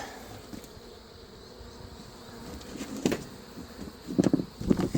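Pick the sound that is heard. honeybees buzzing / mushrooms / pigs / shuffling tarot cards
honeybees buzzing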